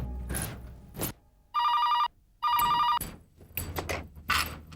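A telephone rings twice in bursts, each about half a second long, amid clattering room noise and brief thumps.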